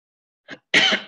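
A short throat noise followed by a harsh, loud cough burst, close up, with silence around it.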